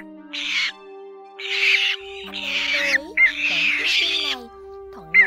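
Cinnamon bittern and black bittern calls play in repeated harsh, loud, close squawking bursts, four main phrases with short gaps and a steady electronic tone running underneath.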